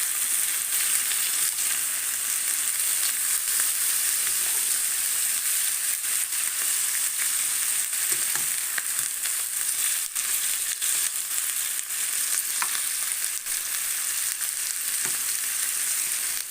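Sausage sizzling in a frying pan, a steady, close crackle and hiss that runs without a break, with a few faint clicks and stirring sounds scattered through it.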